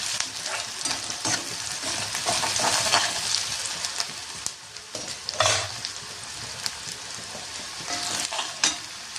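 Onions fry in hot oil in a pan for Maharashtrian brinjal bharit. A steady loud sizzle runs throughout, with repeated close scraping and stirring strokes of a spoon against the pan.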